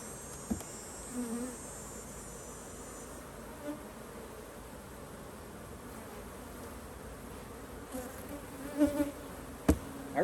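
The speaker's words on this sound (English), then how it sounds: "That is a bunch of pissed off bees." Angry honey bees from a swarm trap buzzing in a dense, continuous drone, fairly close, with a few knocks and handling bumps over it and no talk.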